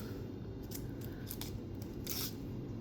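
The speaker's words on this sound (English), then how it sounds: "So when propagating, you would cut in between the nodes" Scissors snip through a Monstera stem between the nodes, several quick crisp crunching cuts close to the ear against a quiet background.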